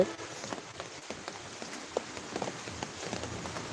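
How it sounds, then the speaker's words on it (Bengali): Steady torrential rain in Jessore patters on a surface, easing slightly, with scattered louder drops tapping irregularly over the constant hiss. "এইমাত্র একটু বৃষ্টির তীব্রতা কমছে"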